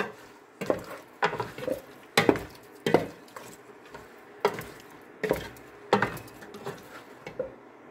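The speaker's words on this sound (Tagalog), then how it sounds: "Tapos, lagyan natin ng suka, guys. Haluin muna natin." A spoon scrapes and clatters against a pot of chicken adobo just after vinegar goes in, in irregular bursts of stirring knocks with short pauses between strokes, close up with no talking.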